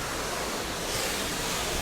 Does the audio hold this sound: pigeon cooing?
no